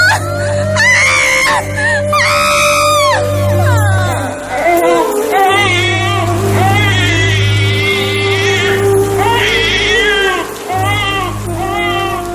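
A child cries and screams loudly in rising, wailing bursts over a steady low hum, with short sobbing breaks between the shrieks.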